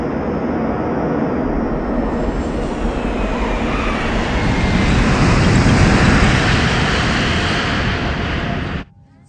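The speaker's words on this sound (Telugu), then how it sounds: "మన ఫ్లైట్ని గోవాలో ఎమర్జెన్సీ ల్యాండింగ్ చేస్తున్నాం." Airliner making an emergency landing in Goa, heard as a loud, steady cabin roar and rumble that swells midway and then cuts off abruptly near the end.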